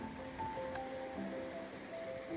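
River flowing beside a rocky mountain path on a Himalayan trek near Everest gives a steady broadband rush of water, faint and continuous, with faint tonal sounds layered on top.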